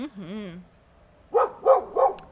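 Dogs at home give three sharp barks in quick succession near the microphone, after a brief high whine or yip at the start.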